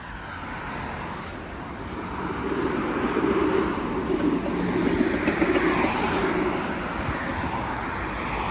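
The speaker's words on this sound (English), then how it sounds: "Here comes the westbound train, traveling at a somewhat decent speed" A westbound Line 5 Eglinton LRT train passes at moderate speed on a cold day, its low rumble swelling to a peak midway and then receding, with steady road traffic noise beneath.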